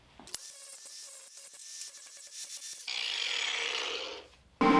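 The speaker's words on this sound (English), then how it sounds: "It's so much faster to cut metal with this bandsaw versus having to use the grinder" A Ryobi battery-powered metal-cutting bandsaw hums, then grinds steadily through metal with a bright, rasping hiss, close and moderately loud, before the cut finishes and it briefly quiets.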